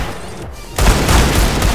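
A loud Desert Eagle pistol shot in CS:GO bursts in after a quieter stretch, followed by a dense, booming tail of continuing fire.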